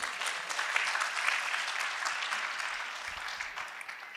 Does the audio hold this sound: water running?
no